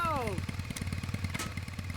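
A motorcycle engine in Metal Gear Solid 4 putters in a fast, even pulse of low throbbing beats, close and steady, after a brief falling whine at the start.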